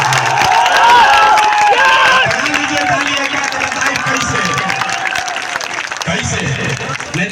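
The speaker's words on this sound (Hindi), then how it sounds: "कैसे नेताजी को ताली बजाते हैं, सुनिए कैसे।" A large crowd at a political rally in Bihar claps and cheers loudly for a politician, a dense roar of applause that slowly fades while voices carry over it.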